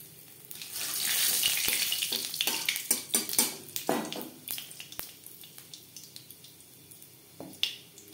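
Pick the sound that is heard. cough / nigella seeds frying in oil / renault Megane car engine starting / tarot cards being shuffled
nigella seeds frying in oil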